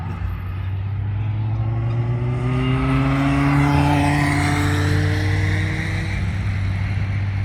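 A Ferrari and a Dodge Charger SRT with a 707 horsepower Hemi run around the Three Sisters race track, engines droning loud and close with rising and falling pitch as they accelerate past.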